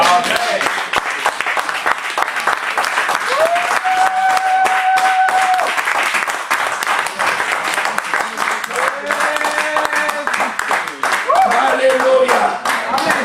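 A church congregation applauds steadily while acclaiming the Lord, with continuous clapping under a voice and sung or chanted tones rising over the crowd.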